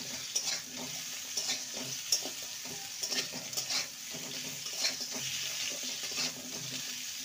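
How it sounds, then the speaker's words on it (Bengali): Pumpkin pieces fry in a pan while being stirred: a soft, steady sizzle runs beneath repeated scraping and clinking knocks of a utensil against the pan, irregular and close. "কুমড়োকে 2 মিনিট ভেজে নেব।"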